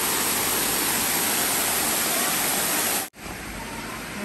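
Water rushes steadily over the Prang Sawan weir in Uthai Thani, a loud, unbroken roar of flowing water heard close by that briefly cuts out near the end before resuming.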